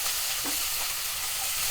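Grated ginger and garlic frying with finely chopped onion in a kadai, a soft steady sizzle with faint stirring scrapes, close and brief.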